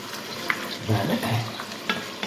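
Sausage added to lard in a pan sizzles and is stirred while cooking wild boar cacciatore style, a brief crackling fry with scraping stirring sounds, close and moderately loud.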